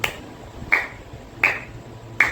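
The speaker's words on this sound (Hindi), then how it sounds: "उस पर बजा रही हूँ ताली" Three sharp, evenly spaced hand claps ring out alone at a steady rhythm, each a crisp close slap with a brief decay.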